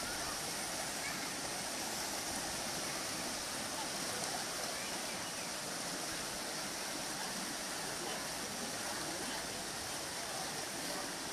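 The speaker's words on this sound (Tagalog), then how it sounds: "Hindi lang medyo baha, talagang bahang baha." Floodwater rushes steadily during Typhoon Ofel, a dense continuous roar of flowing water filling the scene at constant loudness throughout, with no clear voices above it.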